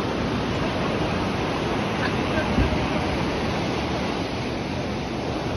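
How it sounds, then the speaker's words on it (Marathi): Steady roar of ocean waves at high tide on Diveagar beach in Konkan during monsoon rain, a dense continuous wash of surf with no distinct breaks. "लाटा पण लय आहेत कारण की भरती चालू आहे."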